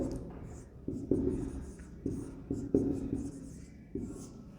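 Formula written on a board during an inverse trigonometric functions lecture, with distinct tapping and scratching strokes arriving in irregular bursts, close and fairly quiet, with no talking.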